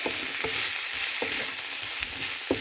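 Minced pork stir-fries in hot oil with garlic and pepper, a loud, continuous sizzle broken by sharp spatula scrapes against the pan at an uneven rhythm.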